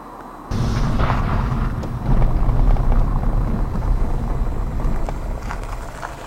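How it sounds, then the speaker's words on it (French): Suzuki Swift Sport Hybrid performing a launch-control start outdoors, a loud sustained engine roar that bursts in abruptly and holds steady as the car accelerates, with no talk over it. "On va faire un launch control qui n'existe pas."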